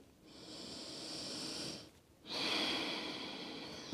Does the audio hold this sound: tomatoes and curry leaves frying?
no